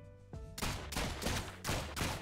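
Rapid bursts of gunfire from the video game Rounds, several loud shots in quick succession with brief gaps between volleys, close and harsh.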